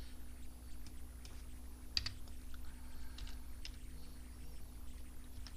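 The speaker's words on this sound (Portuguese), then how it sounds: "Perdão, vou digitar aqui." Typing on a computer keyboard, a few scattered soft key clicks over a low steady hum, faint and close, without talk.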